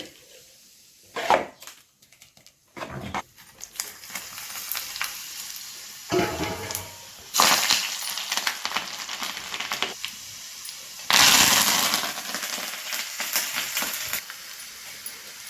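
Spices fry and sizzle in hot oil, broken by loud bursts of crackling and the clatter of a spoon stirring and scraping the pan.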